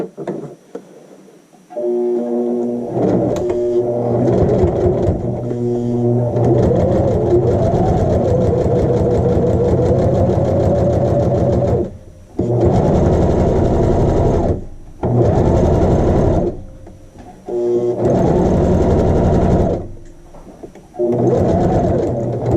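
A sewing machine runs close up, stitching a flat felled seam sample in several long bursts of steady whirring hum with brief pauses between runs, ending with a back stitch.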